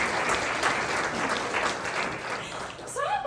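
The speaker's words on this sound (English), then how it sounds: "Yes, you can clap." An audience at a women's conference applauds with a dense, steady burst of clapping that fills the whole short moment, ending as a voice begins to speak.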